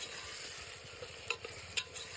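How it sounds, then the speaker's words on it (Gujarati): Tomatoes being stirred into yellow rice frying in a pan: a steady close sizzle with a few soft scrapes of a spoon, no voices. "ટમેટા નાખીને હલાવી નાખીએ"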